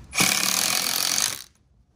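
Power tool driving a 3-inch screw into concrete block while building an outdoor kitchen with a grill: a loud, steady whirring grind lasting just over a second, then stopping abruptly.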